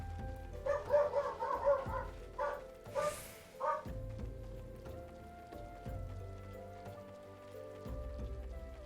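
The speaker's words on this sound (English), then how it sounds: "If he barks again, I'll have to go and check it." A dog barking outside a house, a handful of muffled barks early on with a steady low background hum and patter afterward, heard from a distance with no talking.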